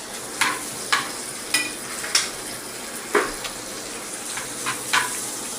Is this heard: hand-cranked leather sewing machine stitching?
no